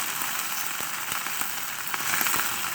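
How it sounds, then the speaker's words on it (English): Bacon sizzling hard in a hot frying pan, a steady close hiss and crackle with scattered pops, continuous with no talking. "Wow, look at that bacon sizzle."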